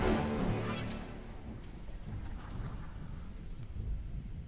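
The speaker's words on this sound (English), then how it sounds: "and the thunder in the background." Thunder rolls in the background of a recording, a low rumble loudest at the start and fading into a soft continuing murmur with faint crackles, distant and quiet.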